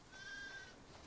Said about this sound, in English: You really named each individual sheep?